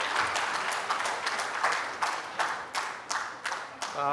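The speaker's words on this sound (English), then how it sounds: "Big round of applause, ladies and gentlemen." An audience in a conference hall applauds an invited speaker, sustained clapping that thins into a few scattered claps before a voice begins near the end.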